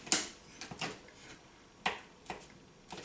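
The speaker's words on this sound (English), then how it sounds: "cut the cheese up into small pieces." A knife chops through hard cheese on a chopping board, with a handful of quiet, sharp taps spaced unevenly.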